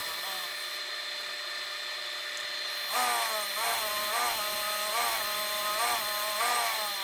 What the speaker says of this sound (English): Here pretty soon my lathe is going to try and take off on me.